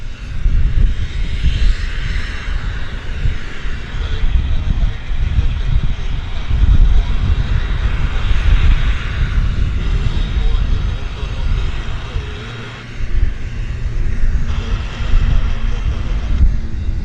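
Boeing Dreamliner jet engines at Vancouver Airport, a steady loud roar with wind buffeting that holds for the whole stretch and dips briefly near the end, with someone talking over it now and then.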